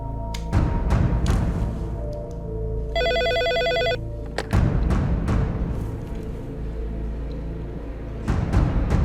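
A telephone rings in an Egyptian action film, a single electronic ringing burst lasting about a second, set against a busy soundtrack of low rumbling, thuds and sharp hits before and after.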